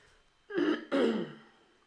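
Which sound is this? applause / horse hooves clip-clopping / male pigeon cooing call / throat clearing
throat clearing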